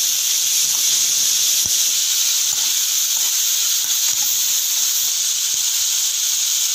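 Tomatoes fry in a pan until soft, giving a constant, loud, bright sizzling hiss that holds steady throughout with a few faint ticks and pops underneath.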